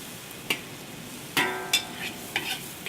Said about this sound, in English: Stir fry it again. Make the flavor go into the noodle.